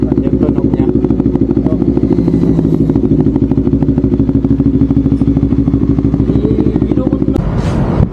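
A Kawasaki Ninja 400 engine with an abnormal noise runs steadily and close up, a dense, even mechanical chatter throughout, ending in a sharp clunk and brief rattle near the end.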